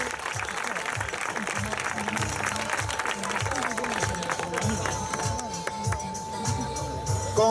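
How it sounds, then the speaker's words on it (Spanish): A crowd at a bodybuilding contest applauds a muscle-model competitor, with scattered clapping under loud, thumping event music and general crowd noise. "Un aplauso para él."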